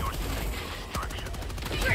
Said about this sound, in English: Oh, I like the machine gun a lot.